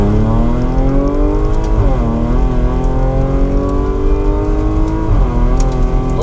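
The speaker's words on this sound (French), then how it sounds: "Donc là, je suis en deuxième et là, je fais gaz." An Audi S5 running ethanol with a stage 3 tune, about 530 hp, accelerates hard in second gear. The engine's loud, steady roar climbs in pitch, dips briefly at a shift, then climbs again, close and alone.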